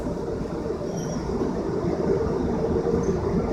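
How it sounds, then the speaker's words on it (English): Continuous loud whooshing roar of powerful car wash blow dryers with a rumbling low end, steady throughout with no voices. "Can you hear the blow dryers?"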